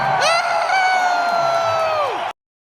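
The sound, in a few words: man screaming at a concert, voice recording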